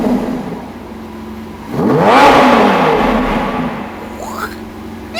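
Engine of a Lamborghini Aventador SVJ Roadster, quiet at idle, swells into a loud, rising rev and then eases back down, with a second shorter blip near the end.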